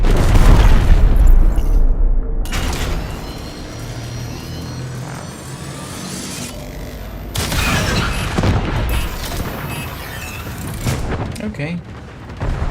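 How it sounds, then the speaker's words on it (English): Heavy artillery booms and rumbling blasts from a spaceship's forward guns destroying a cruise ship in Warframe, during a Railjack space battle, loud and sustained with bursts of explosive noise while someone talks briefly. "Boom. Cruise ship eliminated."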